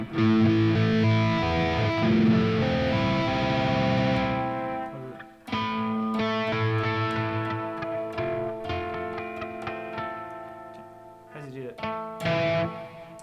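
Heavily distorted electric guitar, a Gibson Les Paul Goldtop, playing dense chords and riffs live, loud and sustained, with a brief drop near the middle and sharp accents toward the end.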